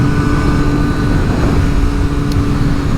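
A Triumph 765RS motorcycle fitted with an Akrapovic exhaust overtakes on the road, heard as a loud, steady engine drone mixed with heavy wind rush throughout.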